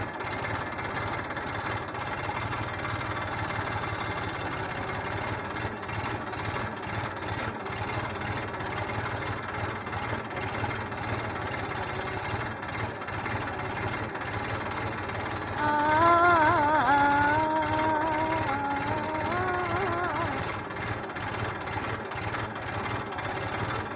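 A tractor engine ploughing a field chugs steadily nearby with a knocking diesel rhythm, briefly growing louder and straining for a few seconds before settling back.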